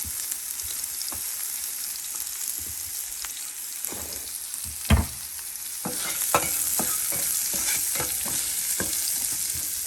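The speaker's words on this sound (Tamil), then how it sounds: "அந்த எண்ணெயிலே இந்த வெங்காயத்தை போட்டுக்கலாம்." Onions go into leftover oil from frying lentils and sizzle steadily up close, with scattered stirring clicks and one sharp knock midway, with no speech.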